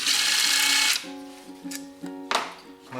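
A power driver whines briefly and loudly, then a lower rattling whir follows in short pulses as 8mm clutch side cover bolts are backed out of a 1987 Yamaha Warrior 350 ATV.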